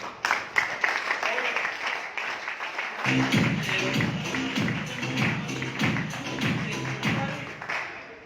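An audience at a business success seminar claps for a speaker. A few scattered claps come first, then steady, rhythmic clapping swells and carries on, heard fairly close.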